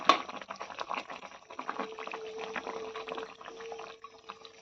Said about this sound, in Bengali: তরকারিটা যখন একটুখানি হয়ে আসলো আমি ভাজা মাছ কটা দিয়ে দিলাম ঢেলে